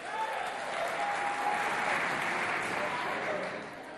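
A school crowd at a college dance contest claps loudly and continuously, swelling then fading at the end, with whoops and cheers mixed into the dense applause.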